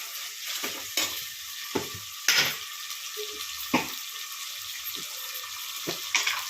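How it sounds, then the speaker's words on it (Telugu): Onions fry in a pan with salt and turmeric, giving a constant close sizzle, while a utensil stirs them in repeated scraping strokes roughly every second. "ఆనియన్స్ తొందరగా వేగుతాయి"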